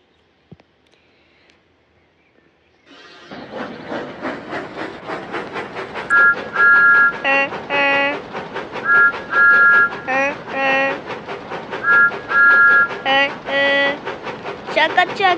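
Engine running in a Thomas & Friends video game: steady rolling rail rumble with repeated bright whistle-like tones and clicking, loud and continuous after a quiet start.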